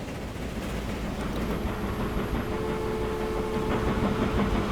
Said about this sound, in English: That train goes straight through the centre of the station.